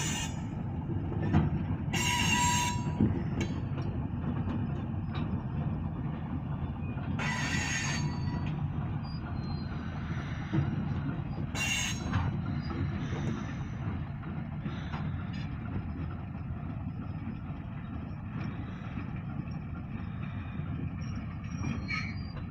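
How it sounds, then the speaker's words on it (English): A very short push-pull grain hopper freight train with its locomotive in the middle rolls past a freight yard, giving a steady loud rumble of wheels on rails with several brief high squeals and clanks. "Really short grain train right there with the engine in the middle."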